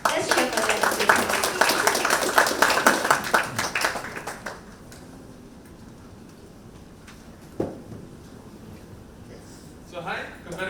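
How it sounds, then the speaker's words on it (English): Audience at a youth startup demo day event clapping for a pitch team, a few seconds of brisk applause that stops abruptly, followed by near silence with a faint knock and a voice. "Let's cheer for them."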